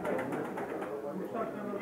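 Pigeons coo softly in a low murmur at a pigeon auction, with voices talking over them.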